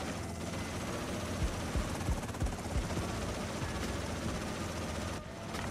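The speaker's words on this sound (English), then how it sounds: "Helicopter chopper." Helicopter in the video game GTA San Andreas, a continuous mechanical rotor drone with faint rhythmic thumps, steady and fairly quiet in the background throughout, with no speech.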